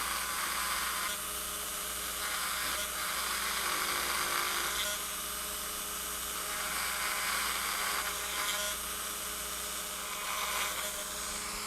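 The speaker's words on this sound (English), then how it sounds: "we'll just grind the top part of this off." Rotary tool bit grinding the top of whittled wood to make overlapped siding, a steady high-pitched whine with faint dips as the bit touches and lifts from the wood.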